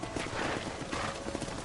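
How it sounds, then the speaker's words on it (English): Horse hooves clip-clop steadily at close range in the Red Dead Redemption video game around Blackwater, a rhythmic trotting patter over a dense layer of game ambience with faint voice-like traces. "Go on. Hit your horse and wait for me by the stable."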